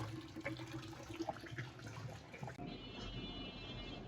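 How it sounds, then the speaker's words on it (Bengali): Rice is washed in water, with soft sloshing, trickling and swirling, faint and close, and a brief tap-like pour near the end. "আমি চালটা ধুয়ে নিচ্ছি"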